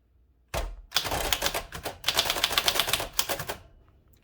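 Keys clatter in quick, irregular bursts on a 1940s Adler Favorit 2 thrust-action typewriter, up close and loud, with short pauses between runs of strikes and no talk.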